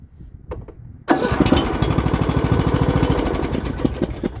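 A small lawn tractor engine cranks and catches after a few quiet clicks, then runs steadily with a loud, chugging idle rhythm close by.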